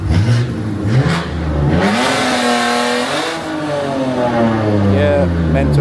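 An Audi RS3 at a car meet revs hard nearby, the engine note sweeping up and down in loud, rising and falling pulls before settling, with voices talking over it.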